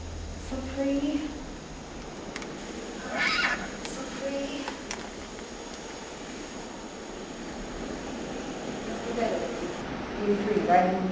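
Horses whinny several times at a distance, their high neighs rising over a steady broadband wash like surf, with people talking throughout.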